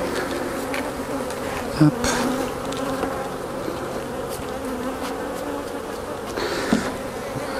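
Bees hum steadily around an open hive during queen-rearing grafting work, a dense continuous drone throughout, with a couple of brief knocks and a short spoken word over it.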